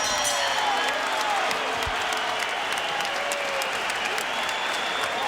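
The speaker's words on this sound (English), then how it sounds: "the crowd's going to give him a big hand" A boxing crowd in an arena applauds a boxer with steady, dense clapping that holds at the same loudness throughout, with faint cheering mixed in.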